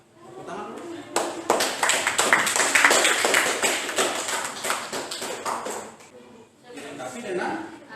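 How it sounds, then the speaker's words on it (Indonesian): Applause breaks out in a classroom during a student group's teaching practice session, a burst of clapping from a small group that builds, holds for several seconds, then thins out, with a brief second flurry near the end. "Tepuk tangan."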